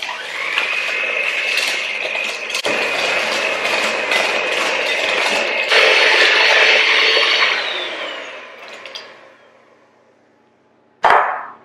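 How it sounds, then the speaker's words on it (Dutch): Electric hand mixer fitted with dough hooks beats butter with 125 g of granulated sugar for Christmas cupcakes: a loud, steady motorized whine runs for about eight seconds, then winds down, followed by a brief knock. "En die ga ik daarna even mixen met mijn mixer met deeghaken."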